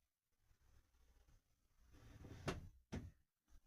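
A car boot lid swinging open on freshly fitted hinges, giving a low creaking groan that builds and ends in two sharper knocks, fairly close and with no talking.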